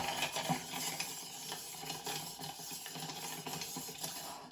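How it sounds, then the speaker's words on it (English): A cocktail spoon stirs in a metal coffee cup, giving a steady, close scraping and clinking swirl that runs continuously for a few seconds with no voices. "And this is probably going to make a racket, because it's in a metal coffee cup."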